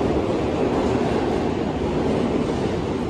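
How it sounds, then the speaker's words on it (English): A New York City subway train passes, a steady loud rumble and rattle of rail cars that fills the space, with no talk over it. "I'm going to wait for the train to pass."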